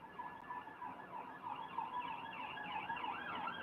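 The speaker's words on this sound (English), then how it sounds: "You can you hear the sirens outside?" Emergency sirens wailing outside, a continuous rising-and-falling tone held steady at moderate distance for several seconds with faint road traffic underneath and no voices.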